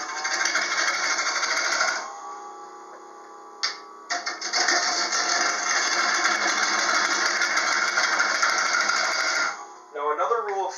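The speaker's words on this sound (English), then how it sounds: "I'm just leaning and pulling the bowl gouge with me as I'm making these" A bowl gouge cuts into a spinning bowl blank on a wood lathe, giving a steady, loud scraping whir that pauses briefly a couple of times and resumes. At the very end it gives way to a short squeaky tail.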